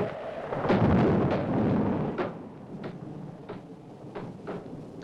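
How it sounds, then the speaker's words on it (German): Wind rattles old window shutters in a horror-film scene, a low rumbling gust followed by a series of faint knocks and clatters spaced out over a few seconds, with no voices. "Das ist nur der Wind. Der rüttelt überall an den Fensterläden."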